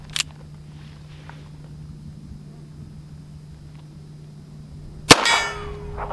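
A Chiappa 1873-22 revolver fires one-handed from a distance at a steel plate on a range, giving a single sharp crack and metallic ring near the end after a long quiet stretch, with a faint small click earlier.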